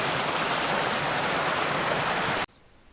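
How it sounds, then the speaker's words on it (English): A creek in the White Mountains along the Appalachian Trail rushes close and loud as a dense, even hiss of flowing water, then cuts off suddenly to near silence. "I think this is the creek that they were saying goes up to people's knees."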